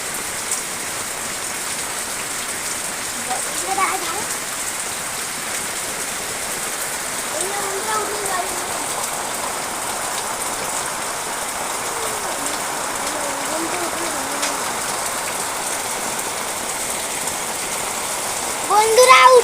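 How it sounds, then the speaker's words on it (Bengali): Heavy rain pours onto a leaking tent in a steady loud rush that never lets up, with faint voices somewhere in the background and the downpour swelling louder at the very end. "বৃষ্টির জোরে তো তাবু ফুটো হয়ে জল পড়ছে।"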